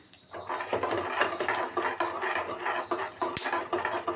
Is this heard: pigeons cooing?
no